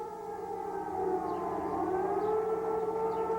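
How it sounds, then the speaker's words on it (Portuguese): Air-raid sirens wail continuously, several overlapping tones rising and falling slowly, loud and steady throughout with a distant, open-air quality and no talking. "dá para você ouvir aí de casa agora o barulho das sirenes"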